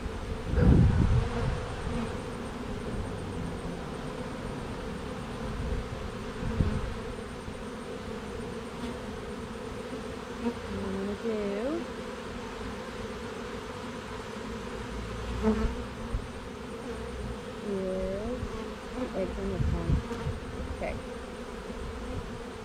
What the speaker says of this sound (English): let them bees crawl up on it, because nurse bees don't fly